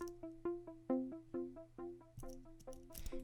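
A synth pluck pattern runs with echo from a Valhalla Supermassive plugin, quick plucked notes trailing into repeating delay tails, fairly quiet and alone, ending with a brief noisy burst.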